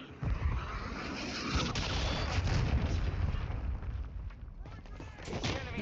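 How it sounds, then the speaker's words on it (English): Cruise missile strike in Call of Duty Modern Warfare 2 gameplay: a dense, continuous roar of booming explosions and rumbling blasts, loud and sustained throughout with no gaps. "Friendly cruise missile deployed."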